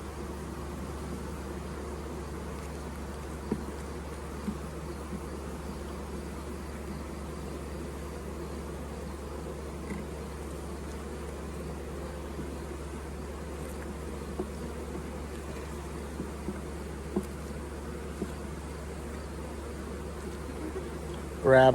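Honey bees drone in a steady, continuous buzz around an open hive during handling, with a few faint clicks and knocks of the equipment over the constant hum.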